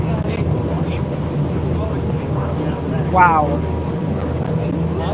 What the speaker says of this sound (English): the boat is going through the falls